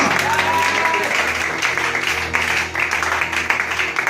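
A church congregation claps and acclaims together in continuous, dense applause that swells and dips slightly, with a voice speaking over the crowd throughout.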